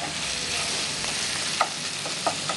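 Tomatoes being stirred with a spatula in a pan, a steady frying sizzle under a few short scraping taps near the end.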